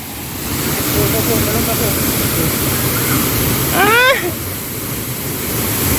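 Tad waterfall near Vang Vieng, a steady broad roar of falling water close by and loud throughout, with a short bird call rising above it midway.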